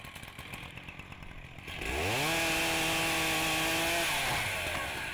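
A chainsaw revs up from a quieter idle to a loud, sustained high-speed whine while felling trees about 15 to 20 cm thick outdoors, holding near the microphone before easing slightly in pitch.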